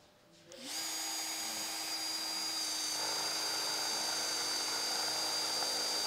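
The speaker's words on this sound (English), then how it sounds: "Let's drill also this." After a brief quiet moment, a power drill whirs up to a steady high-pitched whine and keeps drilling continuously at close range into a hard epoxy composite made from toilet paper.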